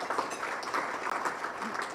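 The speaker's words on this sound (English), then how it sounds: "let's give the CMC a round of applause and thanks." A county meeting audience applauds, steady clapping at moderate distance that fills the short moment without pause.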